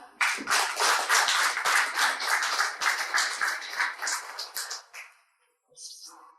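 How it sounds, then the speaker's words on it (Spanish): Audience at a university book presentation applauds in a steady, dense burst of clapping for about five seconds, then stops abruptly before a voice begins speaking. "Fuertes palmas, por favor"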